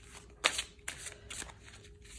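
Oracle cards being shuffled for a tarot-style reading, a few quick riffling bursts of card flutter, close and fairly quiet, with no talk.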